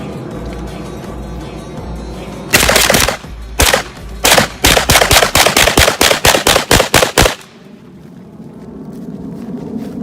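Pakistani-made POF MP5 submachine gun firing outdoors: a few separate shots, then a rapid string of loud, sharp reports in a steady rhythm that stops abruptly, leaving quiet ambient background.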